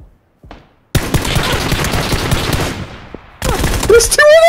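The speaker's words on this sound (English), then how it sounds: "By the way, that's a suppressed rifle." Suppressed rifle fire in PUBG, a dense burst of muffled rapid shots lasting a couple of seconds, followed by a short pause and then more loud clattering action.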